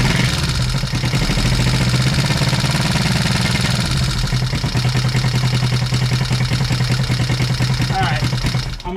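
A Honda CB350 motorcycle engine, freshly revived, fires up and settles into a steady, loud idle with a rapid even exhaust pulse and light throttle blips, continuous for the whole stretch.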